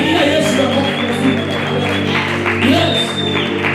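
A congregation at a church service claps for Jesus, a sustained crowd applause with voices and some musical tones running through it.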